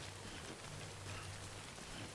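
Steady rain falls in the video game Death Stranding, a quiet, even hiss of drops on surfaces with a faint low hum beneath.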